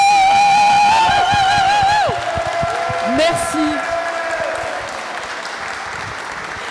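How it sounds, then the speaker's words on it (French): Loud audience applause with cheering and whoops greets the Téléthon coordination team at a review event, the clapping filling the room under someone speaking over a microphone before it thins toward the end. "Un applaudissement très fort,"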